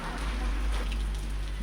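Rain falling during a village fair at a karaga festival in Ramanagara, a steady close hiss of drops on surfaces, alone with no talk.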